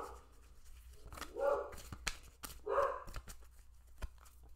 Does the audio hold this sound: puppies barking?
yes